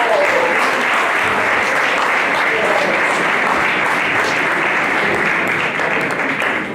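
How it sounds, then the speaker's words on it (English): Loud, steady applause from an audience at a ConnectEO and CONTRALESA event, a dense wash of clapping hands that holds for several seconds without a break and without voices on top. "Let's give them once again a round of applause."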